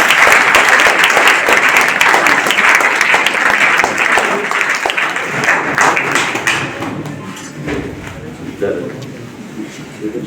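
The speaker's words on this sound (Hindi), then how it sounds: "आइए सभी लोग जोरदार तालियों से अपने" Loud applause from an audience at a women's college seminar in India, dense and steady for several seconds before thinning out, with a voice talking over the clapping.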